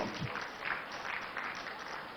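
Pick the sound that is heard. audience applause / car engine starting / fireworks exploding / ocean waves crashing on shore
audience applause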